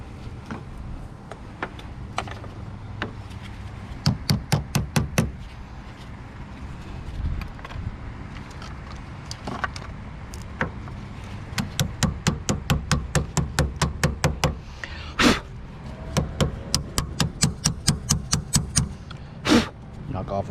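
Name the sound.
knocking corrosion off a Toyota Camry starter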